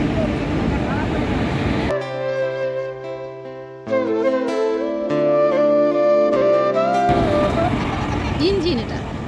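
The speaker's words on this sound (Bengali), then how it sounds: "দেখো ইঞ্জিন আসছে ট্রেন।" A train engine passes near a station and sounds a long, loud multi-tone horn that sustains for several seconds. The engine's rumbling and clatter are heard before and after the horn, and people talk in the background.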